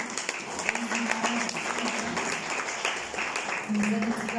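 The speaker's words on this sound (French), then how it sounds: "Applaudir, mesdames et messieurs." Audience applause at a forum event, steady broadband clapping with some voices and background hum mixed in, moderately loud throughout.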